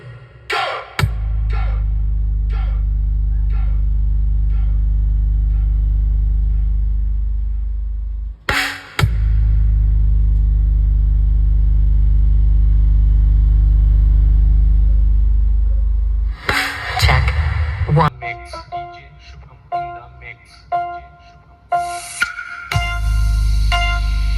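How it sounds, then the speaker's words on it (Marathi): A loud, deep sustained bass tone from a sound system during a low-frequency sound check at a village festival plays in long steady stretches, broken by brief gaps and clattering, chirpy bursts. "frequency test starting now. Low frequency."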